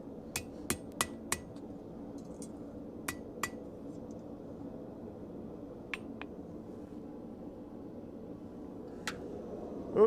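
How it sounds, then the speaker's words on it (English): A hammer strikes steel to flatten it: sharp metallic clinks arrive in a quick cluster of four, then scattered single blows, close and clear over a low background hum. "Hammer it out a little bit flatter."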